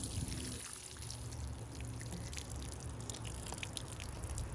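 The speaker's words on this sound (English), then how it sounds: "now we're going to put a nice dose of water" Water poured onto organic rose fertilizer around a garden rose, a soft continuous splashing and trickling close by, quiet and steady with no talking.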